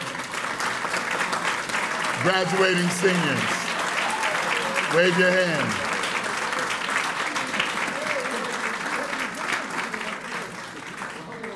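At a 2012 honorary degree dinner, a banquet audience gives sustained applause for graduating students, a dense steady clapping that fills the room while someone speaks over it through a microphone.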